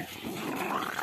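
Two dogs growling steadily while gripping a bite object during protection training, a low continuous rumble up close for about a second.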